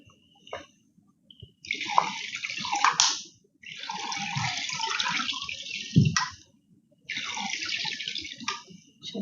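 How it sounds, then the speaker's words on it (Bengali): Hot milk poured into a small bottle: liquid streams in three main bursts with short pauses between, near and fairly clear, with faint knocks underneath. "এভাবে করে গরম দুধ এখানে দিয়ে দিচ্ছি একটা বোতলে করে"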